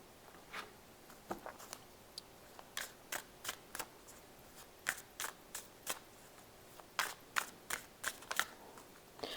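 Tarot cards shuffled for a reading, a run of crisp riffling bursts repeating irregularly, close and fairly quiet with no voices.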